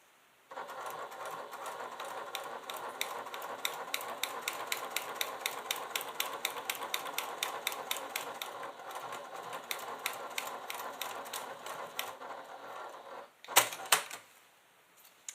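A sewing machine top stitching a quilted leather clutch with Tex 45 thread, a size 90-14 needle and a Teflon foot, running in a steady rapid chatter of needle strokes for about thirteen seconds before a brief clunk and stop.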